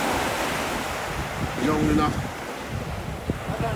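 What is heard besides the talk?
waves and wind at Gibson Beach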